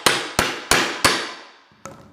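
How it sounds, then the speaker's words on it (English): Four sharp, evenly spaced hammer blows ring out on a crowbar being driven behind a baseboard, each strike decaying quickly, followed by a fainter fifth tap after a pause; no one speaks. "take your hammer, and you're gonna pound on the very top."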